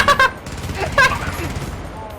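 Automated turret fire in the bug-hunting shooter Helldivers, sharp bursts of shots around a shouted voice, short and fairly close, with speech over the top.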